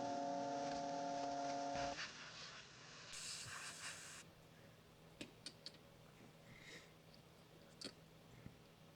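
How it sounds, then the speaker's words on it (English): Compressed air hisses from a paint nozzle to dry paint on a fishing spoon, a steady breathy rush in bursts with a tonal whine at first, followed by quiet small clicks and taps. "I'll just paint all the spots, and then I'll blow them dry using air from the nozzle"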